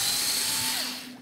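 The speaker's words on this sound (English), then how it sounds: "drill that out." A power drill boring out a block while building an Edge 540 model airplane, one short loud whining burst that winds down and fades.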